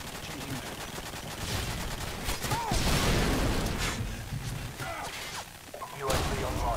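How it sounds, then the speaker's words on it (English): Grenade blast and rapid gunfire in a shooter video game, a dense loud burst of shots and a booming crash with constant rumble throughout. "Nice grenade."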